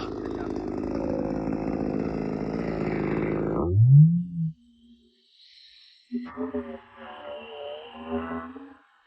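Maruyama MCV3101TS pruning chainsaw cuts through a branch more than 15 cm thick, a loud steady buzzing drone that bogs down and stops abruptly after about four seconds, then someone talks over a quieter background.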